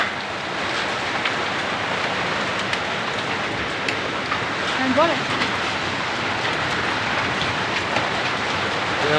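Hail pelting down during a dark stormy night with the power out, a dense steady roar of hitting ice under a person talking.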